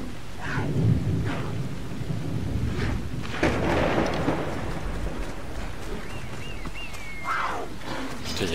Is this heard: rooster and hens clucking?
no